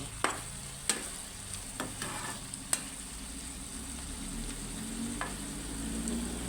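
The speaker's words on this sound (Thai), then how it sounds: "เราก็ผัดไป ให้เขาเข้ากันให้หน่อไม้เขาสุก" Chicken and pickled bamboo shoots stir-fry in curry paste, with a soft steady sizzle under several sharp clacks of a spatula against the pan, spaced irregularly, and no talking.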